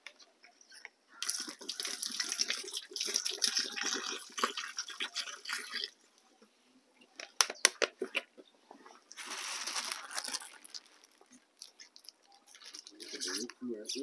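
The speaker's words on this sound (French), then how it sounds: "Et puis ici, nous allons verser notre urine." Urine used as liquid fertiliser being poured into a container outdoors, splashing in bursts that start and stop with pauses between, close and fairly clear, with people talking intermittently.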